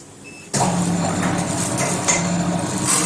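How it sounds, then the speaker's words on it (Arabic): A nut-packaging machine's vibrator suddenly kicks on, shaking the hopper with a loud, dense buzzing rattle and mechanical hum, vibrating steadily and close with slight surges. "الصوت اللي هتسمعوه دلوقتي صوت الفايبريشن ده انه من قوته بيهزز الجرافطه"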